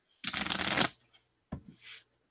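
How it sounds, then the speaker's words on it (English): A deck of cards for the Commands & Colors: Ancients board game is riffle-shuffled close by, with a crisp burst of flicking cards, then a brief tap and a shorter second riffle. "I will go ahead and shuffle my deck also."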